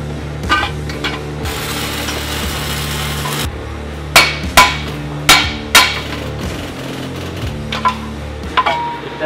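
A spline insert is pressed into a Toyota Tacoma driveshaft, giving sharp metallic bangs and knocks, close and loud. A handful of hits stand out at irregular intervals over a low steady hum, and one stretch of hissy noise comes early.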